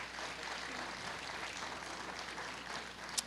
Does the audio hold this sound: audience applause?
yes